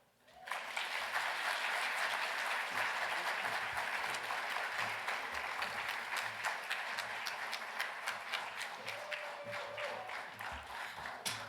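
An audience welcoming a keynote speaker at an organizing event breaks into applause that starts abruptly, holds dense and steady, then thins into scattered individual claps toward the end.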